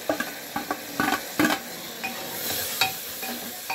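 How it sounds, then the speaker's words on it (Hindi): Chillies, asafoetida, chopped tomatoes and crushed black pepper fry in oil for a chana dal tadka, a steady soft sizzle broken by several sharp stirring scrapes and clinks against the pan. "आप इनको अच्छे से भून लेंगे जब तक खूब अच्छे से तेल ऊपर ना आ जाए"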